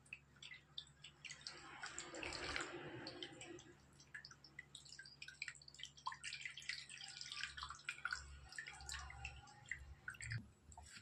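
Grated radish being rinsed in a bowl of water: soft splashing and steady dripping with scattered small wet clicks, fairly quiet and close, no voices.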